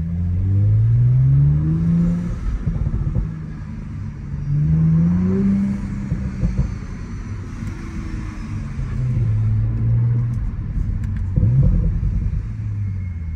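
A 2023 Audi S5 engine rumbles and revs repeatedly, rising and falling in pitch, with low exhaust burbles and a faint turbo whir, close and steady throughout.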